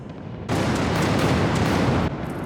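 A heavy, roaring blast of cannon fire in the anime Last Exile bursts in suddenly, rumbling loud and broad for over a second before dropping back to a low background roar.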